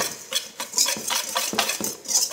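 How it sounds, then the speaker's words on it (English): A whisk or utensil clinks and scrapes rhythmically against a bowl while mixing cinnamon and pumpkin pie spice, quick close metallic taps repeating in a steady beat. "So I added those in and just whisk it together,"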